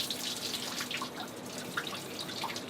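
Water from a hot-water shower in the cockpit of a sailing boat runs and patters steadily, a continuous splashing hiss with small drips throughout, close and fairly quiet.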